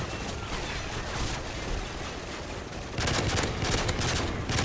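Sustained automatic gunfire in a video game about ultranationalists rattles on continuously, a dense unbroken burst that grows louder and heavier after a few seconds, close and without talk.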